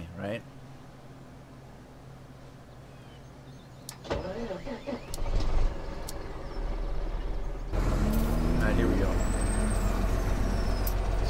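A truck in Farming Simulator 17 idles and then revs up with an air-brake hiss and rising engine roar partway through, while someone talks over it.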